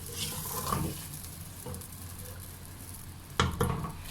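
Food sizzling and frying in a hot pan while cooking black chickpeas, with a sharp hiss and clatter near the end as two tomatoes and water go in.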